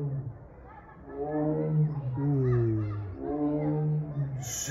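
A tiger roars at a nature park in Tarsus, a deep, drawn-out series of loud roars close by that swell and fade over several seconds, with no talk over them.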